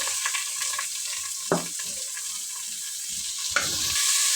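Onion, curry leaves and green chili frying in a pan with cumin for a potato kurma, a soft continuous sizzle with two distinct scraping stirs of a spoon against the pan.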